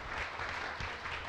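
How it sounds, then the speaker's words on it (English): Brief, faint audience applause closing a festival talk in Kuala Lumpur, a soft continuous patter of clapping heard from a distance. "So a big round of applause."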